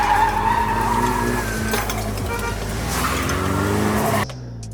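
A car grip-driving fast up a winding mountain touge road in Japan at night roars past, its engine note rising and shifting with tire squeal, then cuts abruptly to near silence at the end.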